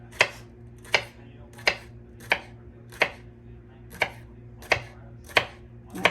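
A knife slices through ampalaya (bitter gourd) on a cutting board, giving nine crisp, evenly spaced chops about a second apart against a quiet kitchen hum.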